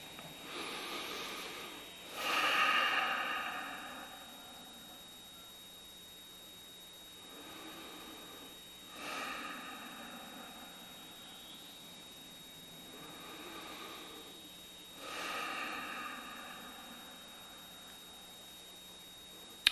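Slow breathing during a guided meditation, several long, soft, airy breaths spaced a few seconds apart, close and fairly faint over a quiet hiss, with no talk.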